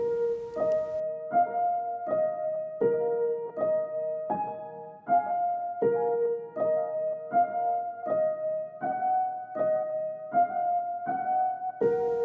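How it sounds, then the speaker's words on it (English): Layered lead melody of glass piano and soft piano from Spitfire Audio in a lofi hip-hop beat, with bright, bell-like sustained notes repeating in a steady rhythm over a soft background, clear and alone without any voices. "It's actually a combination of 2 sounds, a glass piano and the previously mentioned soft piano."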